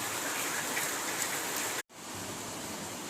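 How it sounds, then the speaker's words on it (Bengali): Rain drumming on a tin roof at midday, a dense, even roar of countless drops with one brief drop-out midway; no talking. "বৃষ্টি ভালোই পড়ছে টিনের উপর, আই থিঙ্ক আওয়াজও পাচ্ছেন"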